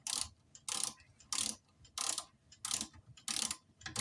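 Torque wrench ratcheting while a Ducati 916 Showa damper is tightened to 35 newton meters, six evenly spaced bursts of crisp clicking with short pauses between, close and fairly quiet.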